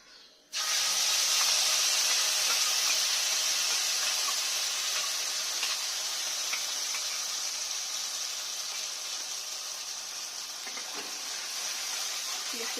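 A spice paste of cashew nuts, melon seeds, green chili and onion for a prawn dish sizzles steadily in a hot pan, a loud continuous hiss that starts abruptly and holds for the whole stretch with no talking.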